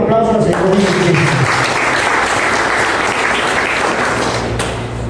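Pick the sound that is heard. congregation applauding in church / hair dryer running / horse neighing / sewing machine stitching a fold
congregation applauding in church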